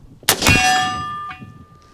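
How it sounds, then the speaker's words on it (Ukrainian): A single loud metallic clang rings out as an AR-15 bullet strikes a steel gong, leaving a bright ringing tone that decays over a second or so. "Чутно було влучання по гонгу."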